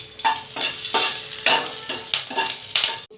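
Dried and green chili frying in oil in a pan, soft sizzle punctuated by about six rhythmic spatula strokes scraping the pan, close and clear with no voices.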